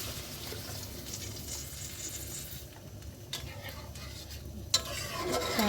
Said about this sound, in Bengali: এ পর্যায়ে আবার পানি দিয়ে দিব,